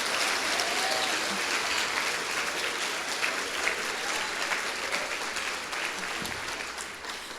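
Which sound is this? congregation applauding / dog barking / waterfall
congregation applauding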